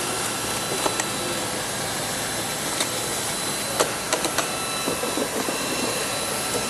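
A heat gun blows with a constant loud roaring hiss over a bitumen membrane on an internal corner, with faint scattered clicks and taps from work nearby and no talking.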